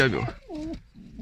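A pigeon gives soft, low cooing calls up close, a rising and falling burble with brief pauses.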